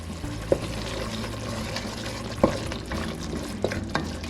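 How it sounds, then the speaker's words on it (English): Salt mackerel and black pepper stirred together in a pan, with a continuous low sizzle, scraping movement and a couple of sharp utensil knocks. "I'm going in with a little black pepper. Okay, and we're gonna stir these together."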